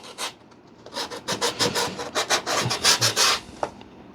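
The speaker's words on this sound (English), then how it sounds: "Then we're going to take sandpaper, like I like using a sanding block. We're just going to kind of sand that surface up." Sandpaper on a sanding block rubbed over the surface of an Avios PBY Catalina RC plane part, a close run of quick, rasping back-and-forth strokes, steady and fairly loud with no talking.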